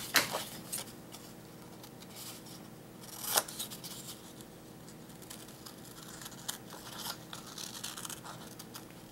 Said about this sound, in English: Now we're going to cut them out with our scissors.